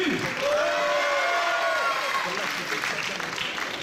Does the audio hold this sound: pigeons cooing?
no